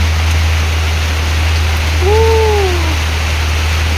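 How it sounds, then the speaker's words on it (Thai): Steady rain falls during an evening storm, a continuous even hiss that runs through the whole stretch, with a low constant hum beneath and a brief gliding tonal whistle near the end. "ฝนตกแล้วนี่"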